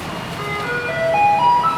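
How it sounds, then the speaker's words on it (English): A garbage truck passes on a Taipei street at night, its loud amplified melody playing in bright sustained notes over a low engine rumble that grows slightly louder as it nears. "what you can hear there is the garbage truck."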